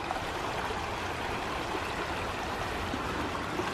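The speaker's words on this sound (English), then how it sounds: "Now this is a river." A river flows steadily nearby, a dense continuous rushing and babbling of water at constant loudness throughout, with no voices.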